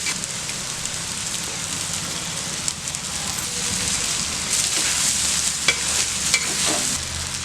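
Cooked basmati rice and egg fry in a hot pan, giving a loud, steady sizzle with bright crackling and occasional stirring scrapes, close and continuous.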